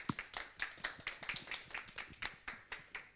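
A congregation at a church service claps in a steady, even rhythm, about three or four claps per second, close and crisp, with no talking over it.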